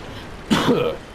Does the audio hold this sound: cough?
yes